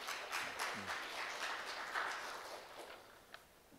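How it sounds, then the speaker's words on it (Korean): Forum audience applauding in a hall, a moderate wash of claps that swells early and gradually thins toward the end, heard from a slight distance. "박수 한번 보내주셔야 되잖아요."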